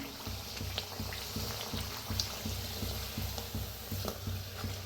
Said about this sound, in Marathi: दोन्ही साईडने छान असं तळून घेऊया.